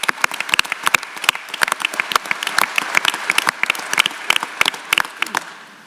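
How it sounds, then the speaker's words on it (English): Audience applause at a military training and simulation conference panel, a smaller group clapping with distinct separate claps in a loose rhythm, fading out at the end. "how about a round of applause for one of our true training leaders?"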